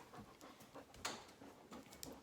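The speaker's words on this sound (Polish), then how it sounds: "najsłodszy pies na świecie" A dog pants in quick, soft, steady breaths close by, faint and alone.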